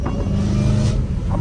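A Dodge Challenger Hellcat Redeye with catless exhaust pipes accelerates hard, a loud, close, rasping engine roar building and swelling over a short burst without speech.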